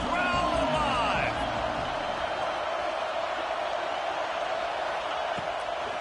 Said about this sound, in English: Crowd alive.